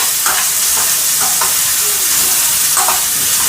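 Grated coconut fries lightly in a pan for mango chutney, giving a steady close sizzle with soft stirring scrapes throughout and no talking.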